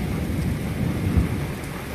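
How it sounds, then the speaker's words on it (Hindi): Heavy rain pours steadily outdoors after a storm near a cement plant, with low thunder rumbling underneath and a stronger rumble near the middle; no voices. "तूफान के बाद बहुत तेज बारिश भी आ गया।"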